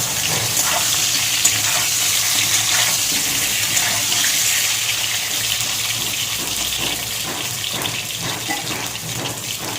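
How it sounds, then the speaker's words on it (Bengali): Pointed gourd frying in oil in a kadai gives a loud, dense, continuous hiss and crackle close by, steady throughout with no talk. "আমি পটল ভেজে তুলে নিয়েছি, হালকা করে ভেজেছি।"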